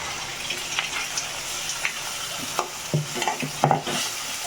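Tomatoes sauté in a pan with crushed garlic and cumin, a steady close sizzle broken by scattered scraping stirs toward the end, with no voices.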